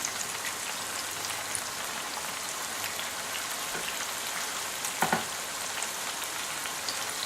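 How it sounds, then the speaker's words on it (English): Zucchini slices frying in hot oil, a steady crackling sizzle with a dense patter of small pops, a brief louder burst near the middle, and no talking. "you just fry them from both sides"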